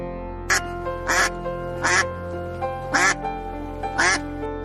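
Five loud, honking goose calls ring out at a steady pace, each a short nasal blast, with a low hum running underneath.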